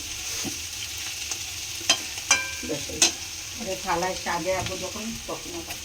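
A dish being stirred in a frying pan, a soft sizzle under sharp utensil clinks and scrapes, with a voice talking quietly in the background toward the end.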